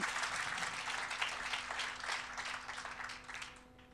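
Audience applause at a conference on the euro, a dense patter of clapping from a crowd that holds steady and then fades toward the end, heard somewhat distant.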